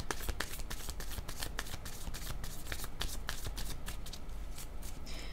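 Tarot cards being shuffled for a reading, a quick continuous riffle of soft slaps and flicks, close and steady, with no speech.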